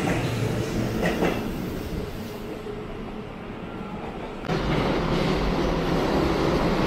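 A Keihan 13000 series electric train pulls out of Kyobashi station, a broad steady rumble of wheels and motors close by, dipping briefly before swelling again as cars pass.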